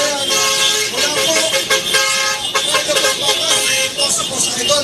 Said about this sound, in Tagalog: mas malakas pa yung busina.